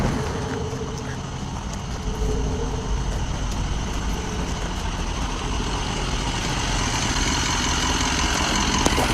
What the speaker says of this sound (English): I need to turn this engine off though